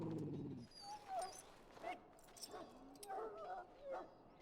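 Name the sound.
dog whimpering in a video game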